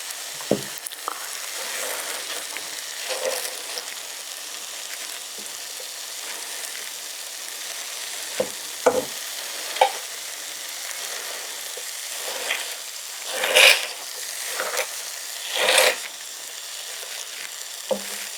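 Potato mash stirred in a pan while cooking vegetarian Mediterranean quesadillas, giving a steady soft sizzling hiss with occasional louder wet scraping strokes, close and alone with no talk.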